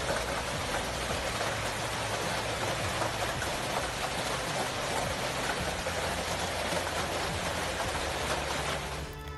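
Dense, steady hail falls in a heavy, continuous downpour, with loud broadband pattering on surfaces that holds constant throughout and cuts off abruptly at the very end.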